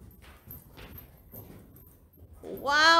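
Tennessee Walking Horse gelding, nearly five years old, walking outdoors. Soft, evenly spaced hoof thuds at a moderate distance, followed by a louder voice calling out near the end.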